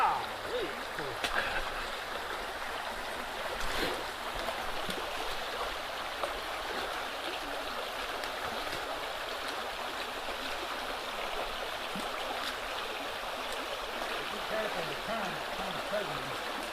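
A cold stream runs at an Appalachian Trail water crossing, a constant moderate rushing burble with scattered splashes as hikers wade, while people talk faintly over it.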